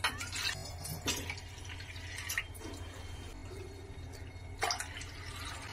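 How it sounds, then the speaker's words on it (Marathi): Water poured into a pot of rinsed, unsoaked chana dal, a low steady splashing and dripping with a few brighter spikes of falling water, heard up close with no talking. "आता आपल्याला ह्याच्यामध्ये पाणी घालून घ्यायचं आहे।"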